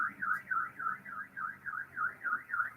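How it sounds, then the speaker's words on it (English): A car alarm wails outside in a steady repeating rise-and-fall siren cycle, about four cycles per second, fairly faint and distant with nothing else over it. "Car alarm."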